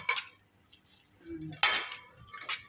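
A utensil scrapes and clatters against a metal pan while stir-frying noodles with water mimosa and fresh shrimp, in a few uneven bursts, close by, with short quiet gaps between them.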